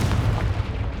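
A Confringo fire spell exploding in Hogwarts Legacy: a single heavy, booming blast with a deep rumbling body that fills the whole short moment, loud and close.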